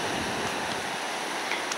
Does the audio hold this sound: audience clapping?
no